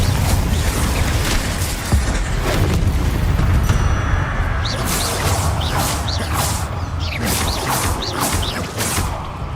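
A Confringo blasting curse detonating in Hogwarts Legacy during a fight with a giant spider: a loud, sustained crashing burst followed by whooshing spell effects and creaking, rumbling impacts, with no voices over it.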